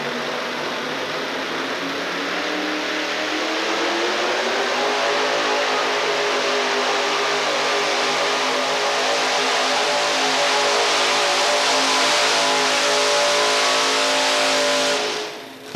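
The engine of the Whirlybird pulling truck from Gulfport, Mississippi, roars at a 1987 truck pull in Murray, Kentucky, as one loud, sustained rev that climbs in pitch and holds steady before cutting off at the end.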